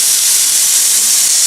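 A pressure cooker whistle vents steam while pudina bath cooks, a loud, steady, close hiss filling the whole moment without a break.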